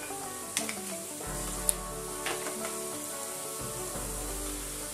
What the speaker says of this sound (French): n'hésitez pas à bien cuire les oignons et les carottes